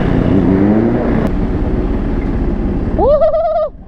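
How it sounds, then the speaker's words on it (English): A three-wheeler's engine revving hard, a loud rising and falling roar up close, followed near the end by a sharp high whine sweeping upward before the sound cuts off. "just look how that thing revs"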